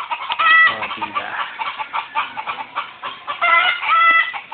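Chickens cluck busily and a rooster crows amid the flock, the calls overlapping loud and close.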